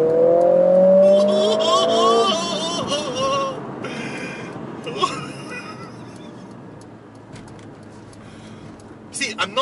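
A Mercedes-AMG A45S accelerates hard in traffic, the engine note rising through rapid gear changes with wind noise and someone talking over it as it eases off.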